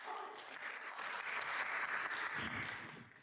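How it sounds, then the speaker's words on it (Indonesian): Applause fills a hall, heard as a soft, spread-out patter of many hands that swells in the middle and then tapers off. "Apakah Anda mendengar tepuk tangan dari seluruh aula?"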